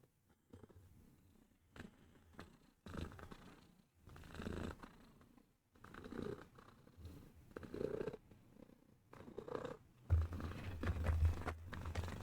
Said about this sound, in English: that purring is my other cat